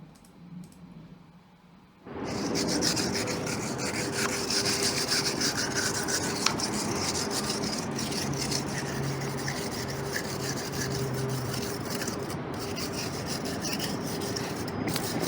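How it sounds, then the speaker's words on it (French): Rubbing down a painted ceiling by hand during repainting, a steady rasping, scratching friction that starts abruptly after a quiet moment and continues with quick repeated strokes, close and alone. "Ça frotte, ça frotte."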